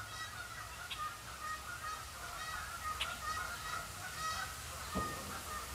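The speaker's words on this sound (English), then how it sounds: "let me just let you listen to the geese" Geese honk repeatedly on a cold fall day in Michigan, scattered calls from several birds at a moderate distance over a low outdoor rumble, with a louder honk near the middle and another toward the end.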